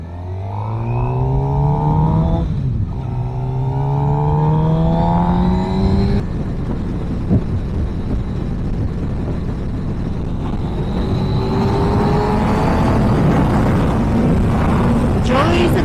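Motorbike engine on a ride out, revving up through gears in rising sweeps, then settling into a steady roar with wind rush, loud and close for the whole stretch.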